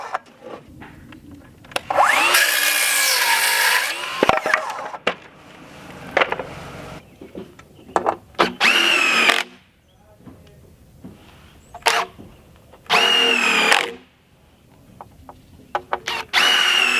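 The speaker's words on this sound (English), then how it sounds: "This is that new Bosch Freak." A Bosch Freak impact driver fastens metal roofing on a garage addition, firing in several loud, close bursts of whirring and rattling hammering, separated by pauses filled with clanks and handling noise.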